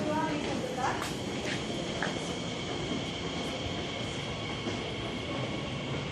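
A Class 345 train pulls out of a station with a steady rumble, a faint whining tone and a few brief squeals near the start.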